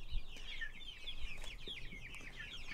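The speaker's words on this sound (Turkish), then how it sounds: "Etlik Saso civcivlerimiz büyüyorlar." A flock of 45-day-old Saso broiler chicks peeps and clucks continuously, many overlapping high calls close by.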